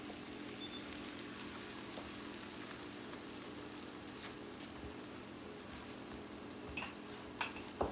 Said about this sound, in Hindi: फ्राई पैन गरम है, इसमें थोड़ा सा ऑयल डालें।